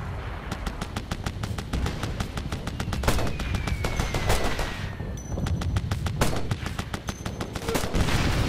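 Gunfire in the video game Operation Flashpoint: Red River, dense rapid automatic bursts and repeated shots cracking loudly and continuously over a rumbling battlefield background.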